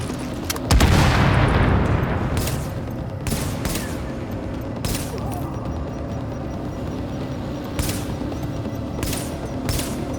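A tank blows up with a heavy boom in Tom Clancy's The Division, followed by rapid bursts of gunfire and scattered sharp shots over a rumbling battle background, with a voice talking faintly.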